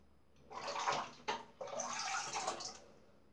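A Gillette Executive Adjustable gold Fatboy razor blade is rinsed under running water, producing a steady splashing wash in two close bursts with a brief break between them.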